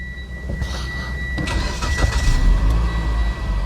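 A 2017 Mitsubishi Outlander Sport inline engine cranks and catches, settling into a steady mid-pitched idle, close and loud, with no one speaking.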